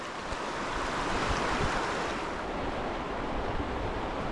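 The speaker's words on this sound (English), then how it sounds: "this water is moving pretty fast" Fast, aggressive current of clear water on Pine Creek, Pennsylvania, rushing in a steady broadband wash close by, continuous throughout with no talk over it.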